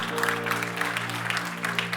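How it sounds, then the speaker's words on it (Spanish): Church congregation applauding during a Christian service, a continuous wash of clapping over a sustained low organ-like tone. "Dale ese fuerte aplauso al Señor."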